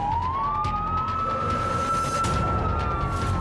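A police car siren wails loud and close in a steady rising and holding tone during a pursuit of a stolen fire truck in Anaheim, California, over road noise.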